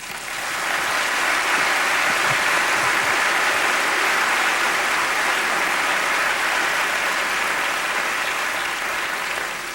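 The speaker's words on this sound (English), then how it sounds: "And I think that deserves an applause." An audience at a business summit breaks into full applause that swells quickly and holds as a thick, even wash of clapping before easing slightly at the end.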